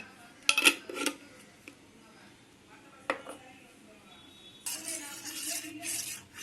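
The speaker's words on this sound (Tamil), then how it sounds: "இதுக்கு இப்போ சக்கரை போட போகிறேன்" A spoon clinks against coffee cups while sugar is scooped in for four cups of instant coffee, a few light metallic taps spread out with a short rustle at the end, and a person speaks in between.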